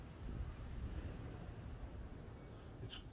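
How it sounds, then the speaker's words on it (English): Strong wind rushing steadily in and around a garage on a blustery day, a constant broad roar buffeting the microphone, with no voices. "It's that windy."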